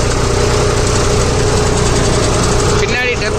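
A New Holland 6010 Excel two-wheel-drive tractor pulls a duck foot cultivator in a field, its heavy diesel engine laboring in a loud, steady, knocking drone with a brief shift near the end.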